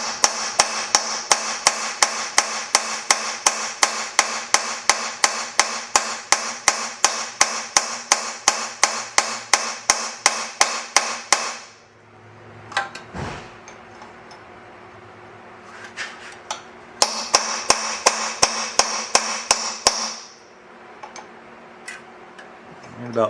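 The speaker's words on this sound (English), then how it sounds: "That was a nut splitting open." A hammer strikes a seized nut on a VW Bug engine until it splits. Rapid, evenly spaced metallic blows ring close and loud for about twelve seconds, then a scattered pause with a few light taps, then another short burst of hammering.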